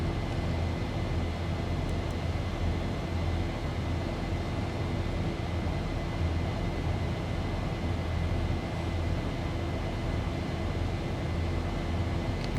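Cockpit ambience of a Boeing 737 climbing after takeoff in X-Plane 11 gives a steady, dense engine and air roar with a faint high whine, constant and unbroken, with no speech.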